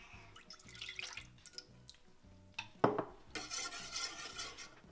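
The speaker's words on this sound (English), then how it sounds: "So now we're going to add the rest of our almond milk." Almond milk is poured into a pumpkin pie mixture in a kitchen, after a few quiet clinks of utensils, ending in a soft, steady stream of liquid.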